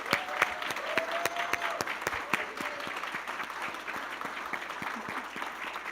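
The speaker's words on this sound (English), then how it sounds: "Please join me in another round of applause for all of our Phi Theta Kappa" Steady applause from an audience at a Phi Theta Kappa honor society induction ceremony at Forsyth Tech, dense clapping filling the room with a few sharper claps standing out, sustained for several seconds.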